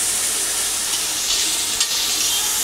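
Garlic tempering for a dry cluster-bean (gavar) bhaji sizzles steadily in hot oil as it is stirred, a close, continuous hiss with a brief scrape near the end.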